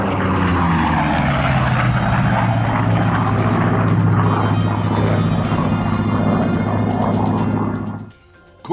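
F4U Corsair propeller fighter passing at high speed, a loud sustained engine drone with a rising whistling whine, steady and close throughout before cutting off abruptly near the end.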